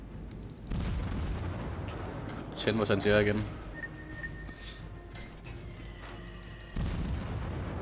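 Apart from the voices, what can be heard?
gunfire in the video game World of Warships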